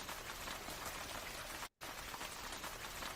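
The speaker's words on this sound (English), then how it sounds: "this audio clip might be rain sound" Steady rain patters on a surface, a dense, even hiss of drops with a brief moment of silence near the middle.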